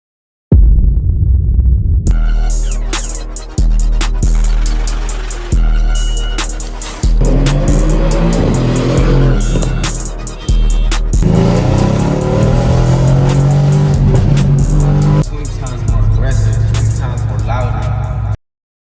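A Mercedes-AMG C63s fitted with catless downpipes, its exhaust loud and close as the engine starts and then revs hard in repeated bursts, with throaty pops and rumbles between pulls.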